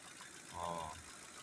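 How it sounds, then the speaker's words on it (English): A Ford-built 5.4 engine in a Lincoln runs during diagnostics, a faint steady idle hum with a brief swell in the middle. "We got engine diagnostics we're doing on this Lincoln."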